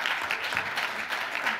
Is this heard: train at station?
no